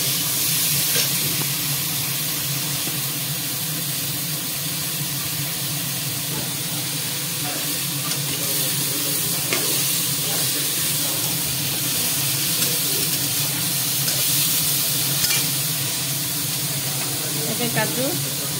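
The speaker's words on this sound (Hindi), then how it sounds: "एबे पाइनएप्पल देकी टिके फ्राई करबा" Pineapple and cashews frying in a pan for an Odia pineapple sapuri khata, a steady broadband sizzle and hiss running the whole time with occasional clinks, and faint background noise around the cooking.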